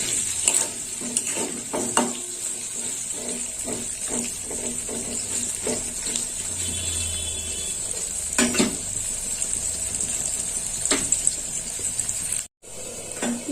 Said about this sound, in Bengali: আলুটা এরকম ভাজা হচ্ছে